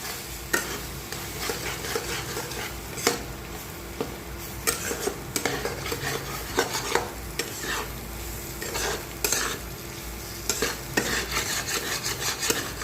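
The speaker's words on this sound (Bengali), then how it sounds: "ডিমগুলো দিয়ে দিয়েছি, এবার ভালো করে নাড়িয়ে চাড়িয়ে ভাজা ভাজা করে" Eggs fry in a pan under steady stirring, with a continuous sizzle broken by repeated sharp scrapes and taps of the utensil against the pan at close range, and no speech.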